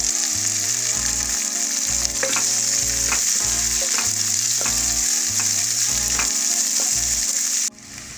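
Loud, steady sizzling of onions frying in hot oil, with rhythmic scraping and stirring taps throughout, then a sudden drop near the end.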